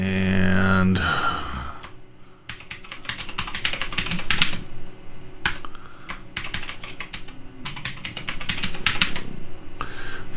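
Computer keyboard keys clatter in quick, uneven bursts as a new password is typed, with short pauses between runs of keystrokes, close and clear, after a brief hum at the start.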